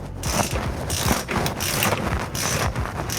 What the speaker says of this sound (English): 3/8 ratchet fits it